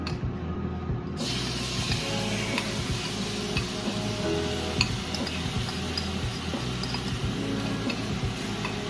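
Bacon sizzles and crackles steadily in a pan for a short breakfast cook, a dense continuous frying hiss with faint ticking pops and no voices.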